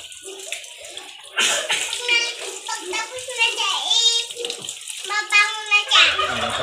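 Water splashes and pours while a goat is bathed in a backyard, with bright running-water sounds under several children's and adults' voices talking throughout.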